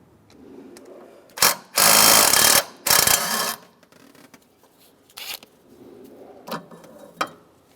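Ratchet backing out two 10mm bolts from a bracket under the transmission mount area of a 2007-2015 Mazda CX-9, heard close as several short bursts of rapid clicking, two of them long and loud, with quieter taps between.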